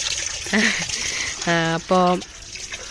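Water pours steadily into a fish tank during cleaning, a continuous splashing wash running under a man's nearby speech.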